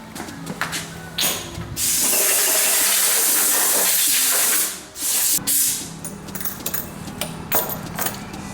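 A loud, sustained hiss of cleaner sprayed onto a Ford Explorer engine part lasting about three seconds, briefly cut off then resumed in a short burst, amid light clinking and handling noises.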